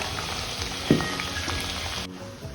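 Drumstick pieces frying in hot oil for a pickle, a continuous close crackling sizzle with one brief knock, cut off abruptly near the end.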